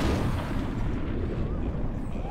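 A creature blows up in the video game Overlord: Raising Hell, a loud, low rumbling blast that fills the start and slowly fades out, with a voice talking over it.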